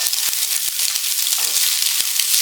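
Steady loud sizzling of capsicum and mixed vegetables frying in a hot pan for prawn fried rice, a continuous crackle with scattered small pops, close up.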